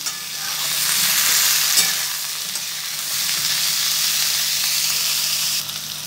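Potato, radish and carrot pieces are stirred with onions in a hot frying pan, giving a steady close sizzle with scraping spoon strokes throughout, no talking.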